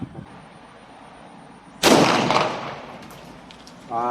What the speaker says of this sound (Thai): จะมาลองยิงด้วยลูกสุดท้ายคือลูกของ Bullet Master 158 เกนหัวธรรมดา